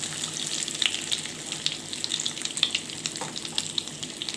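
Beef kebab coated in egg sizzles in a pan over medium heat, with a steady crackling fry broken by small pops and occasional stirring clatter, fairly quiet and unbroken by speech.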